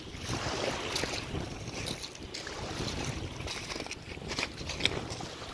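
Warm wind blowing near a bay in New Castle, Delaware, a steady soft rushing with buffeting against the microphone and faint background texture throughout.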